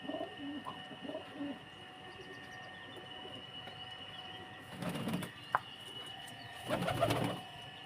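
Soft pigeon coos come and go at a distance over a quiet background hum, with a couple of louder rustling bursts in between.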